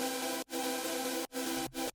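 Wavetable synth chords with noise unison, giving a detuned, phasey, airy texture: sustained bright chords with three short gaps between them, played alone.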